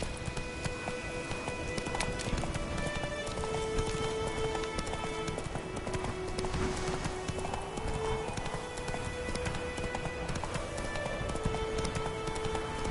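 A horse galloping in The Witcher video game, rapid hoofbeats running continuously under a dense game soundscape with rain-like hiss and faint tonal music, steady and moderately loud throughout.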